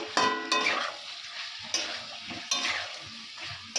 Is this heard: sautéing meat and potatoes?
yes